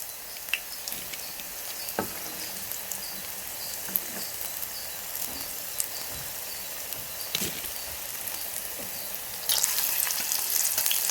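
Okra pakoda fritters bubble and crackle in hot oil with a steady, close sizzle and scattered pops and clinks, the hiss growing louder near the end; no one speaks.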